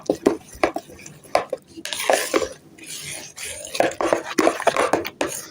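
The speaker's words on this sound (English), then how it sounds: "what I'm doing is actually pushing against the side of my bowl to break it up" A utensil scrapes and pushes lumps of Oreo dirt cake batter against the side of a mixing bowl in a run of close, fairly loud stirring and knocking strokes, with no talking.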